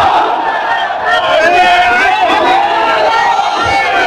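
A large crowd at an Islamic sermon roars the takbir response in unison, a loud, sustained mass of shouting voices swelling and holding for several seconds.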